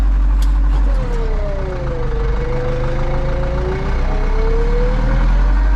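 A Zetor 7211 tractor engine runs with the throttle opened a little, a loud, close low diesel rumble whose pitch rises and settles in smooth swells over a steady idle.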